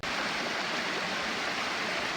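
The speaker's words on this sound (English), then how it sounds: "Bit of a water slide between Defile Lake and Triangle Lake." Water rushes steadily down a natural rock water slide between Defile Lake and Triangle Lake in Temagami, a loud, continuous broadband roar close by with no voices.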